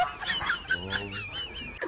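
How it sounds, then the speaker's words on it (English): A chicken that waddles like a duck clucks in a quick run of throaty, squawking calls, close and fairly loud, with no talking over it. "Or no, it's a chicken that thinks it's a duck."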